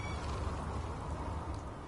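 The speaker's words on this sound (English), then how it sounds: "and again with the rain. It's insane." Steady, dense rain hisses in the Fallout 4 video game, a continuous even wash with no voices.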